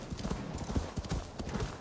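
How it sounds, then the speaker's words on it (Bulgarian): A horse's hooves clip-clop in a rapid, rhythmic gallop in Assassin's Creed Valhalla, steady repeated thuds close up and moderately loud, with a brief snort and faint voice underneath. "Викаме коньо."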